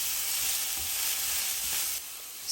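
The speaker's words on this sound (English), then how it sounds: "Using the residual oil, we are going to pan fry our onion slices." Onion slices pan frying over low heat in oil left over from cooking pork chops, a steady close hiss of sizzling that softens slightly near the end, with no voices.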